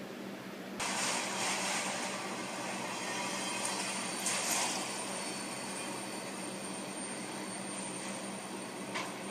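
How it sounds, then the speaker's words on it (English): A train rumbles steadily across a bridge at moderate distance, a broad continuous roar with a faint high metallic whine, no voices. "that one train that we saw going across the bridge"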